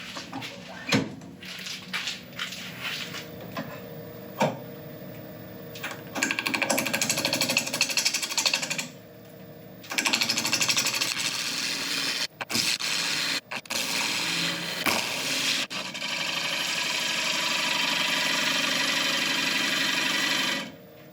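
A woodturning lathe with a gouge flattening the rim of a beech bowl produces a steady, harsh scraping roar, cutting in long loud passes broken by short pauses and brief stops, with no talk.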